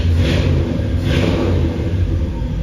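A vehicle engine rumbles steadily with low, throaty revving, loud and close, with no voices over it.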